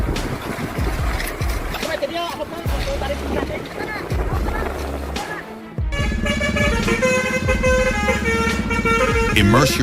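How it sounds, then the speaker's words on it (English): Loud Basuri trumpet horns blare melodic, sustained tones over the heavy engine rumble of a powerful Sulawesi truck. The sound is dense and busy, and the horn tones grow stronger and more tonal in the second half. "Immerse yourself in the mesmerizing sounds of the latest Basuri trumpets, resonating against the powerful engine of one of Sulawesi's most powerful trucks."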